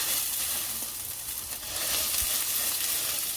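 A beef burger patty sizzles and fries in oil in a pan, giving a steady, close hiss with soft crackles and no talk over it.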